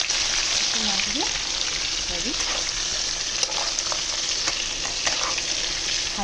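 Cashews fry in ghee in a pan and are stirred. A steady, dense sizzle runs throughout, with a few scraping strokes of the spoon near the start.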